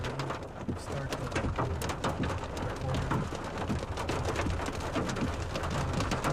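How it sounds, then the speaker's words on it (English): Big hailstones pound the ground during a severe storm in the Texas Panhandle: a loud, dense, irregular clatter of impacts that continues without a break, with a low rumble underneath. "Ooh, that's a big one right there. big hailstorm."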